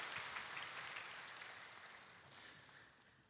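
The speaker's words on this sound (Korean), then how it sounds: "박수 올려드리겠습니다" A church congregation at a Sunday morning worship service gives a faint, distant round of applause that gradually tapers off.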